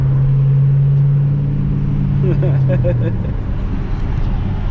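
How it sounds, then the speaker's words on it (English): A loud Camaro SS engine idles and then revs, a steady heavy drone close by. "My car's just loud."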